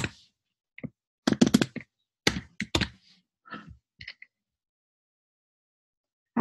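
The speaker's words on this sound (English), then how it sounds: "And I'm going to type in Mandy." Typing on a computer keyboard, sparse clusters of close, crisp key clicks separated by silent pauses, with no talking.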